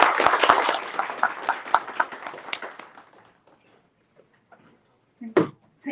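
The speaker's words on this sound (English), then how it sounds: "Can I please get a round of applause for Eleonora Mongali?" Conference audience applause in Geneva, a burst of clapping that starts loud and fades out over about three seconds, followed by near silence and a few brief sounds.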